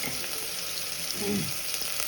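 Chilli and ginger fry in a pan for Kathiawadi muthiya dhokla, a steady close sizzle with a brief fuller hiss midway.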